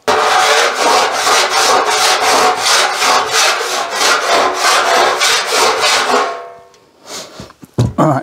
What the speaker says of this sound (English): I'm going to check it with this body file